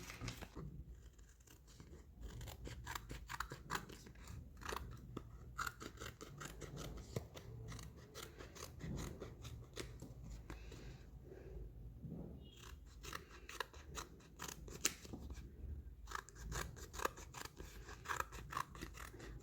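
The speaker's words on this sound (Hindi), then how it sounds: "अब मैं इसको एक पेंसिल के शेप में काटूंगी" Scissors snip steadily through glued, thickened waste paper, cutting it into a pencil shape; the close, continuous crisp cuts come with paper rustle and no talk.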